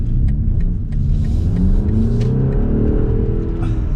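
A 2025 BMW M235 Gran Coupe with a high-output B48 2-liter turbocharged four-cylinder, heard from inside as it drives, giving a steady loud engine drone that swells slightly under acceleration without speech.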